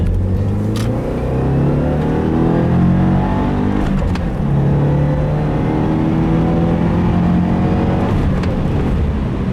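A turbocharged 2015 Subaru WRX with a Stage 1 tune accelerates hard in second gear, its revs climbing steadily in a loud, continuous roar heard from inside the car.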